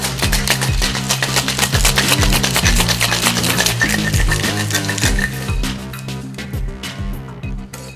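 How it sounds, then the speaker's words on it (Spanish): A fruit martini cocktail shaken fast in a shaker, a loud, steady rapid rattle of ice knocking back and forth for several seconds before easing off, with background music underneath. "esto lo que hacemos es, lo batimos rápido antes que se nos agüe"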